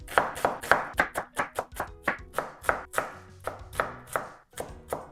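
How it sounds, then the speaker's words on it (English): A kitchen knife dices food into small cubes for shumai on a cutting board, giving a steady run of about twenty sharp, close chopping knocks at a brisk, slightly uneven rhythm. "Then I'm gonna cut this into small dices."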